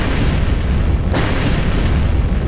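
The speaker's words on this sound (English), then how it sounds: "A series of explosions destroyed the entrance where we escaped." A single deep boom bursts out over a constant low rumbling roar in the video game Purgatory 2, as a series of explosions destroys an entrance amid heavy background noise.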